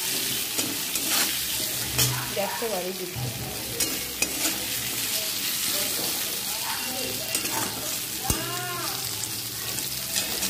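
Potato pieces with salt and turmeric fry in oil in a pan with a steady sizzle, broken by repeated scraping stirs, and a voice speaks briefly.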